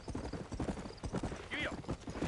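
Horse hooves clip-clop at a slow walk in Red Dead Redemption, a rhythmic series of close thuds with a brief whinny, under a voice.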